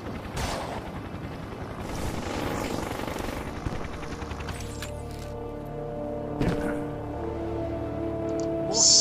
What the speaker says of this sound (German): den Hubschrauber